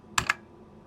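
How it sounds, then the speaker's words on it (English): Two quick, crisp keypresses clack close up on a 1993 Focus FK9000 keyboard, a sharp pair of clicks followed by quiet. "you go ahead and press turbo, and one of the function keys, I'll press F1"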